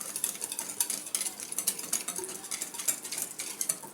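Quick, rhythmic scraping and clinking of a spoon stirring a thick spiced sauce with thyme in a pot, close and continuous.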